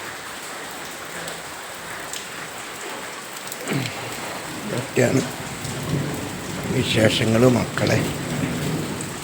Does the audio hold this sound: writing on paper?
no